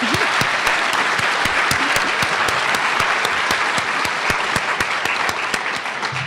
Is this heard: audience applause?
yes